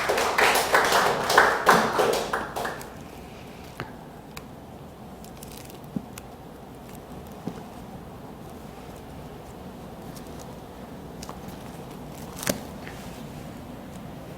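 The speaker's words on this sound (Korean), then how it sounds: "하나님께 영광의 박수를." A church congregation at a Wednesday worship service gives a short burst of clapping that dies away after about three seconds, leaving a quiet room with a few scattered taps and soft rustle.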